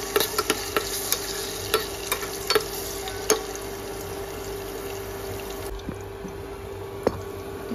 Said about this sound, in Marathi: तुपावर छान फ्राय करून घ्यायचं आहे केळं